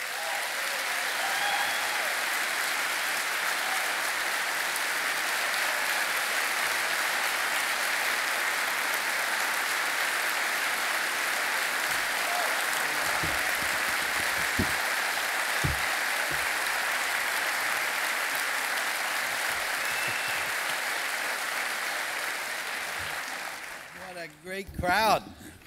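A large audience applauds warmly to welcome a guest, a dense, sustained clatter of clapping that carries on for well over twenty seconds before fading into talk at the very end.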